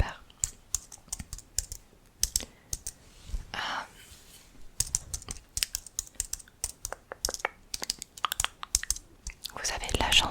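Quick, crisp typing on a computer keyboard at a pharmacy counter comes in close, irregular bursts of clicks with short pauses, while a soft whispering voice is heard in between.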